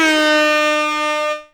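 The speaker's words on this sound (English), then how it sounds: "That deserves an air horn." A single loud, blaring air horn with a bright, brassy tone holds steady for over a second, then cuts off abruptly.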